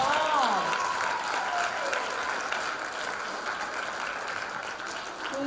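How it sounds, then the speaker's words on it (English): Sustained crowd applause for the spellers at an intermediate spelling bee in Peru, a dense wash of clapping throughout, with a voice briefly heard over it at the start. "And a big round of applause for all of our spellers."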